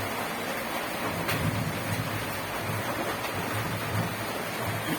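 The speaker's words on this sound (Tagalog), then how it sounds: "Lumalakas yung ulan eh." Heavy rain pours as a dense, constant hiss with faint low rumbling, heard indoors at a moderate distance and holding even through the short stretch without any talk.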